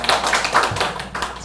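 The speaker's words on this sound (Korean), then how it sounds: "박수!" Applause from a gathered congregation after someone finishes sharing a testimony, a continuous burst of many hands clapping at close range that holds steady for the whole moment with no voices over it.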